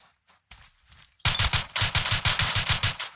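Rapid footsteps on the ground in the mobile shooter PUBG Mobile, a steady close run of about a dozen quick thudding steps after a quieter opening second.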